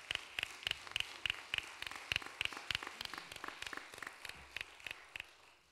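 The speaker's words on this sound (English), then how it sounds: "So if we could give them a round of applause." A small audience at the Highland Center for the Arts gives sparse, faint applause, a few distinct hand claps ticking out unevenly and thinning over several seconds.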